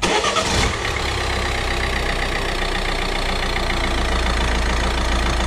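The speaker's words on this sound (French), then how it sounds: "On va faire notre premier démarrage histoire de remplir le filtre et s'assurer qu'il n'y ait pas de fuite" A Citroën C4 Phase 2 with the 1.6 HDi diesel engine starts for the first time after an oil and fuel filter change, then settles into a steady, close diesel idle with a clattering knock.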